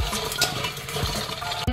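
Salt gets rubbed onto pointed gourds in a bowl, giving close, soft scraping and rustling with a few light clinks against the bowl.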